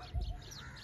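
Small birds chirp faintly in the morning from trees nearby, soft scattered calls over a low background rumble.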